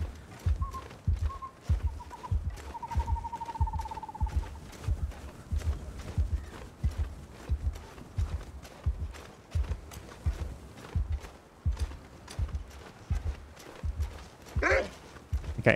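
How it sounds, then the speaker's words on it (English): Regular crunching footsteps in the survival video game The Long Dark, a steady walking rhythm through snow, close and moderately loud, with a brief whistling wind or bird-like tone early and a faint scuff near the end. "Hear footsteps. I think it's just the rabbits."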